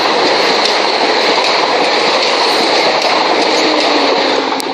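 A train rushing past at Honour Oak Park on the Brighton Main Line, a loud continuous roar of wheels and carriages filling the whole stretch, close by with no talking.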